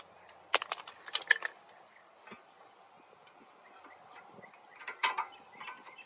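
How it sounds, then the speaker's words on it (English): A spring clip is pried off a BMW E46 325ci brake caliper, giving sharp metallic clicks, clinks and scrapes in two short clusters separated by a quiet pause. "So I'm going to go ahead and get our spring clip off now."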